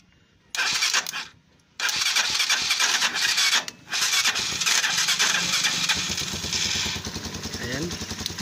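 A Rusi Chariot 175 motorcycle with a faulty starter relay is started by wiring the starter directly, giving loud bursts of whirring starter cranking broken by short pauses, then a steady running engine.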